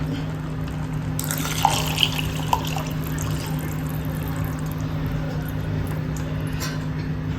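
Water runs steadily into a pressure cooker of rice for lima bean khichdi, a continuous trickling pour with a few small clinks near the start.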